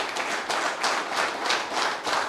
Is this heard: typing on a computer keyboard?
no